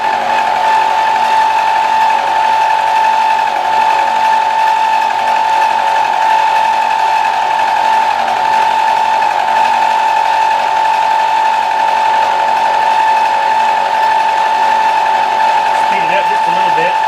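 A lathe cuts a T-nut for a quick change tool post under flood coolant, giving a loud, steady, ringing chatter tone that holds for the whole stretch with a constant mechanical drone beneath it.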